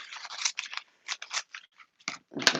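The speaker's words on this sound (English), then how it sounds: "It's a little bit overhanging there, so I'm going to cut that off." Scissors snip off overhanging embroidery material in a run of quick, crisp cuts, close and clear, with no talking.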